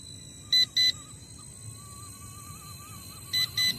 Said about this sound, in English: there goes the battery alarm